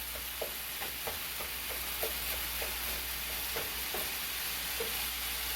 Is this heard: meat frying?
yes